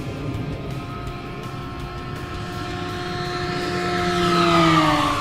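A radio-controlled Great Planes Cirrus SR22T model airplane makes a fast pass at full throttle. Its high, steady engine whine holds throughout, grows louder, and bends down in pitch as the plane sweeps past.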